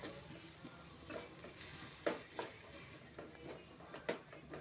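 Ginger garlic paste frying in a pan for a quick no-dal sambar, with soft sizzling under repeated scraping, stirring strokes and light clinks of a utensil against the pan, close and fairly quiet.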